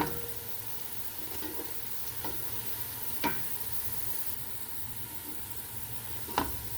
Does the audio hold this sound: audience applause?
no